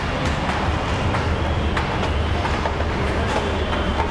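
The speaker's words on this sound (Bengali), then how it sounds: "তো ফাইনালি আজকে আসলাম মেট্রো রেলে" A metro rail train running, a continuous low rumble and rolling hum with faint rail clatter, steady and fairly close, no voices.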